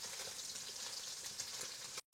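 Fish fries in a pan of oil with a steady, close sizzle crackling throughout, then cuts off abruptly just before the end.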